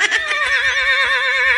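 A loud braying comedic sound effect with a wavering, strained tone, single sustained call lasting over a second, heard alone.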